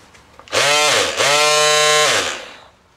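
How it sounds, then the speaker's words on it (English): A Black & Decker mouse detail sander with a Velcro sanding pad buzzes to full speed in two close bursts, a loud, high whining motor hum held for a second or so before winding down, used on an RC airliner model build. "the tool that's going to make your life good, the Black & Decker mouse with removable Velcro sanding pad"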